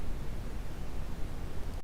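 Generated brown noise fills the clip as a loud, deep, rumbling hiss weighted toward the low end, steady throughout before cutting off abruptly at the very end.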